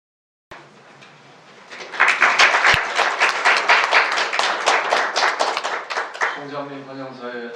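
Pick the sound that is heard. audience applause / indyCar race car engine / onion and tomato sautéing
audience applause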